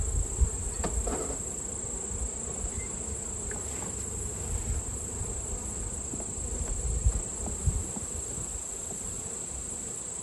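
Honeybees hum steadily around an open hive during bulk feeding, a soft continuous drone with faint individual buzzes rising and fading close by, no talking.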